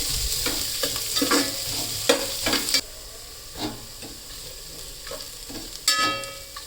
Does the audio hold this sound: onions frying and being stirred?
yes